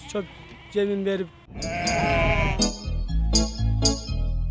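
Sheep and lambs bleat on a Kyrgyz livestock farm, with several loud, close calls repeating throughout. Someone speaks briefly among the bleats.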